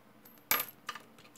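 A single bronze US penny drops onto a hard floor with a bright metallic ting, then a short rattle as it settles, near and clear.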